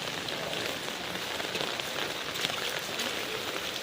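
Heavy rain pouring down in Velachery, Chennai, a dense, steady hiss of drops striking surfaces, close and continuous without pause.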